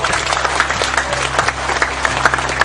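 Audience applause at a gathering honoring a musician, steady clapping from a large crowd throughout, fairly loud and sustained with a low hum beneath.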